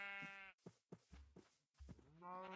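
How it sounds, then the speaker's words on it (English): Several short, low animal calls from a cow in the Minecraft video game, heard alone between bursts of louder harmonic game sound at the start and end of the clip. "Blimmin' cow."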